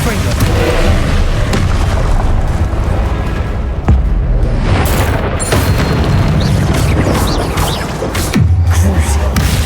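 Heavy, booming Confringo blast-spell explosions in the Hogwarts Legacy game, loud and nearly continuous, with repeated deep impacts layered over one another.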